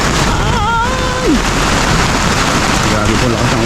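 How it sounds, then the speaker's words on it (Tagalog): Heavy rain pouring down steadily in a dense hiss, loud and close, with a voice briefly calling out early on. "Grabe po lakas ng ulan ngayon."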